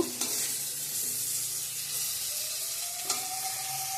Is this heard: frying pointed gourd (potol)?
yes